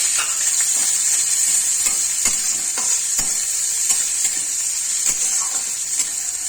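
Onions frying in oil with dried chilli and spices for a potato and aubergine curry, a loud steady sizzle close by, punctuated by repeated spatula clacks and scraping stirs against the pan.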